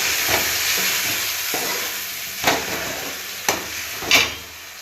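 Chopped tomatoes sizzle and crackle steadily in a hot pan, with occasional clanks of a utensil stirring against the metal.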